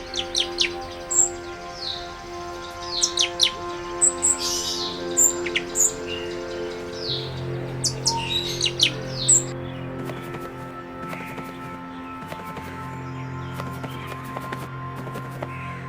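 Caged birds at Lahore Zoo, housed under trees, give bright overlapping chirps and tweets, some sharp and close, scattered over a low steady background hum, with calls thinning out toward the end.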